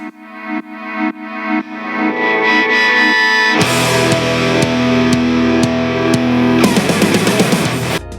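A song intro opens on plucked synth notes, then a swelling, phasing synth pad from Sky Studios Sky Keys that rises loud and full, thickening again near the end with a big layered guitar and synth wash.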